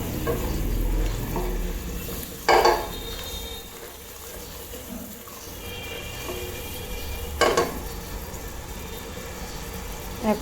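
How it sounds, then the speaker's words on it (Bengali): Spice paste and yogurt frying and being stirred in a pan for egg korma, a low continuous sizzle with two sharp metallic clatters of the utensil against the pan, with faint voices in the background. "মশলার সাথে কষিয়ে নিচ্ছি।"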